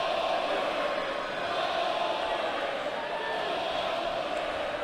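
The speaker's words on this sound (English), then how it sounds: "right now, you can listen to the crowd chanting the name" A virtual arena crowd in the WWE 2K23 wrestling video game roars in a steady, dense wash, chanting a wrestler's name as a continuous distant murmur with no clear breaks.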